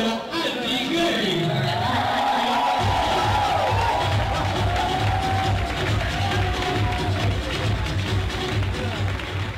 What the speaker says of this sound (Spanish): Fuerte aplauso a la señora Angie Gray.